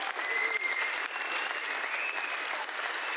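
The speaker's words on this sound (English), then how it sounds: "Christian, Checo, Max, another big round of applause to them." A crowd applauds at the 2024 Red Bull RB20 launch, a dense, steady wash of clapping that holds from start to finish with a faint voice or two underneath.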